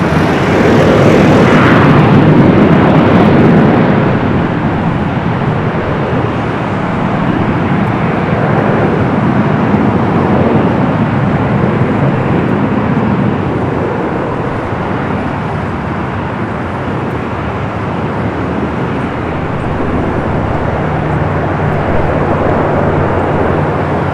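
A Qantas Airbus A330 jet at Los Angeles LAX airport gives a continuous broad engine roar that swells slightly early on, then holds steady and loud for the whole stretch, with no voices.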